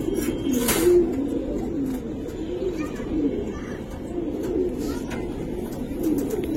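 Giribaz pigeons cooing in a low, continuous rolling murmur close by in a loft, with repeated throaty coos and no talk.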